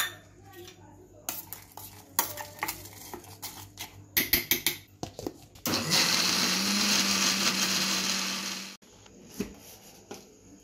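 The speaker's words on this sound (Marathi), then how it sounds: "त्यानंतर आपण थोडं पाणी घालून पुन्हा वाटून घेऊया।" Mixer grinder blending red coconut chutney with added water: a loud, steady whirring roar of about three seconds, preceded by clinks and knocks of the jar and lid being set, with brief rattles afterward.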